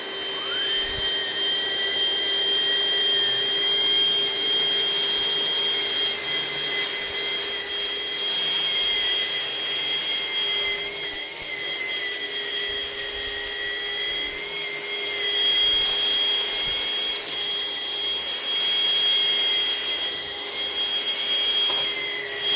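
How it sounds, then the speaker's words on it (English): A Vax Pace Pet cordless vacuum cleaner runs on low power with its brush bar on, giving a steady close whine with a high tonal hum and bursts of rattling debris pickup throughout, with no one speaking. "Let's get straight to vacuuming."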